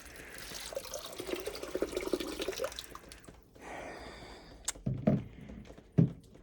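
Water gushes from a tap into a garden greenhouse sink as a steady, fairly loud rush for about three seconds, then eases into softer trickling with a few sharp clunks and splashes near the end.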